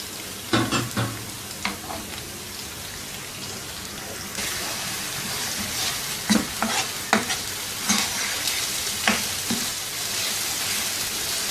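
Onion paste sautés in oil for chicken handi, a loud, continuous sizzle punctuated by rhythmic spatula scrapes and clanks against the pot.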